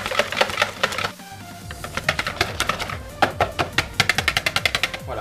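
Softened butter is whisked by hand in a mixing bowl for a lemon tart, giving rapid, close, rhythmic tapping strokes that pause briefly near the start and then resume steadily.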